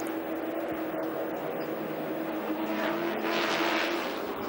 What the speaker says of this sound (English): These Chevrolet cars, all left-hand steering, rear-wheel drive. Very high-tech,